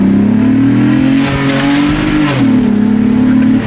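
A 2008 V6 Honda Accord fitted with a cold air intake accelerates hard, its engine droning steadily and loudly from inside the car, with the pitch rising, dipping briefly at a shift, then climbing again.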